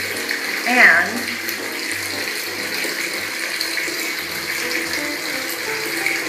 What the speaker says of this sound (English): So I'm just gonna soak my feet here, and that's the beautiful part of being in a tub.